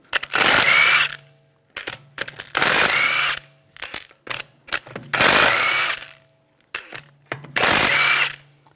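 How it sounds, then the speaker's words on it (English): Power tool with a 17mm socket spinning the wheel lug bolts off a 2009-2013 BMW 328i xDrive: four loud whirring bursts with short ratcheting taps between them, close to the microphone. "Take the lug bolts out."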